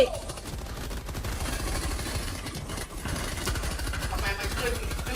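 Rapid gunfire from the co-op shooter Helldivers 2 rattles continuously in a dense, loud stream of shots layered with rumbling game noise, with players' voices talking over the action.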